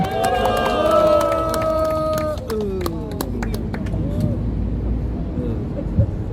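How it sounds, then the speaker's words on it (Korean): A crowd at an outdoor political rally in front of Seoul City Hall cheers and claps as a retired army general is welcomed. The loud swell of cheering at the start blends with tonal sounds and then settles into a lower, continuing crowd noise. "큰 환호와 박수로 맞아주시기를 바랍니다"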